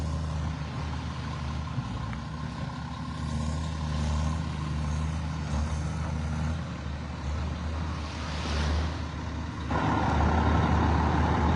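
Heavy trucks idle in a queue on a beach road at Vanderbilt Beach, North Naples, Florida, giving a constant low diesel rumble with a faint brake hiss. The engine noise swells louder near the end, and no one speaks.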